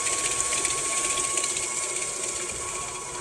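A stand mixer creams butter and sugar for a cookie cake, giving a steady, continuous mechanical whir with a rattling texture and a constant tonal hum, running alone at an even level.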